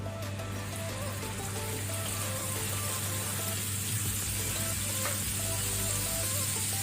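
Ground masala dropped into hot ghee in a pan for squid roast, giving a steady, close sizzle and crackle with a constant low hum behind it.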